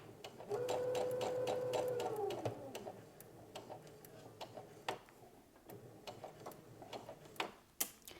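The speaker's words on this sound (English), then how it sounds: "so I'm going to sew up to the pin." A home sewing machine stitches through fabric up to a pin, running steadily for about two seconds with a mechanical whir, then stopping, followed by scattered ticks and handling clicks.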